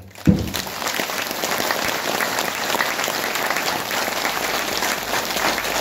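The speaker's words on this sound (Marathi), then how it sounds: "एकदा टाळ्यांचा घर आपण सावता महाराजांकरता करूया" A large kirtan audience breaks into sustained, dense applause honoring Savta Maharaj, steady and loud for several seconds after a brief quiet start.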